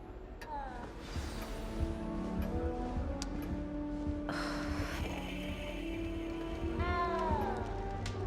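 Meows from a cat at Hogwarts castle in Hogwarts Legacy, several short rising and falling cries spread across the clip, moderately near, over game ambience and music.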